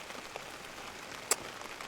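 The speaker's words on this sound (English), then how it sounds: "it started to rain, quite heavy" Heavy rain falling on a straw bale house building site, a continuous close patter of drops with one sharper nearby splash or tap standing out partway through, no talking.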